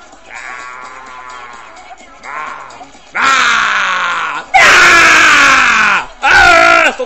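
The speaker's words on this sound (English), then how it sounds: "Stop screaming." Loud, drawn-out screams and yelling from several voices in a game setting, rising in bursts that grow louder and harsher, with a brief quieter grunting stretch between them.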